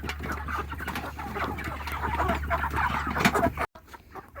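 Cornish cross meat chickens clucking and squawking in a busy, agitated flock close by, a dense continuous chorus under a low steady hum that cuts off abruptly near the end.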